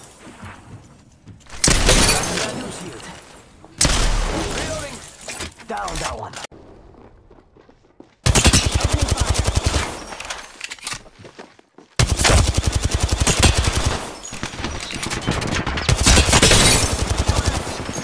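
Bursts of automatic gunfire from Apex Legends, loud and close, fired in several long volleys separated by short pauses, with shell casings and game effects mixed in and some talk over parts.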